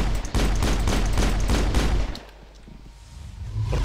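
Rapid bursts of gunfire in the video game Mass Effect crack in quick succession, loud and close, then stop, leaving a low rumbling ambience.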